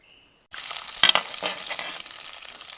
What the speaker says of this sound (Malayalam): അപ്പോൾ നമ്മൾ സവാള ഇട്ട് കൊടുത്തിട്ടുണ്ട്